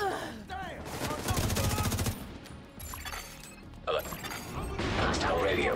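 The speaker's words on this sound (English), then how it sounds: "I hear gunfire." Rapid bursts of automatic gunfire in the video game The Division rattle through a busy mix of mechanical clanks and creaks, with voices audible among the shots.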